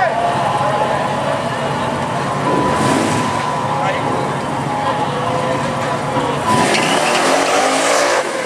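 A black twin-turbo GMC Jimmy Blazer races hard with a loud, strained engine roar and tire squeal, passing close with rising and falling sweeps, while people talk in the background.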